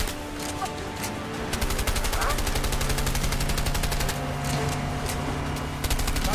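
Rapid automatic gunfire in the video game A Way Out, a steady run of sharp repeated shots lasting several seconds with a low game hum underneath, loud and close.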